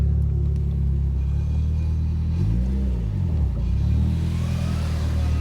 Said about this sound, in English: I'm trying to drive and shift gears.